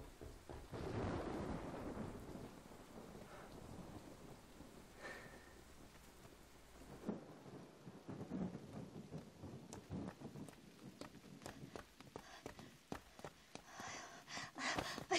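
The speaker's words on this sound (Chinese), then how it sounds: "这雨还没停呢" A thunderstorm with steady rain falling on surfaces, a faint low rumble of thunder early on, then scattered patter and drips growing denser, distant and soft.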